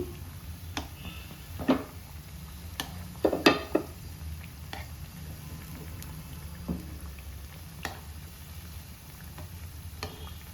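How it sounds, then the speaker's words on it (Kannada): Jackfruit vada batter made with rice sizzles in hot oil, a steady bubbling fry under scattered sharp clinks and scrapes of a utensil lifting pieces out one by one. "ಒಂದೊಂದೇ ಫ್ರೈ ಆಗ್ತಾ ಇದೆ, ಇದನ್ನು ತೆಗಿತಾ ಇದ್ದೀನಿ."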